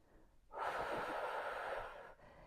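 A single slow exhale from one person during a seated desk stretch, close and soft, lasting about a second and a half before quiet returns.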